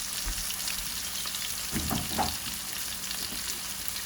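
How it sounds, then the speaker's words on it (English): Garlic salmon simmering on low heat in a pan gives a steady, soft sizzle throughout, with a brief cluster of louder stirring or bubbling scrapes near the middle; close and continuous, no voices. "I'm gonna turn it down to low and let it simmer"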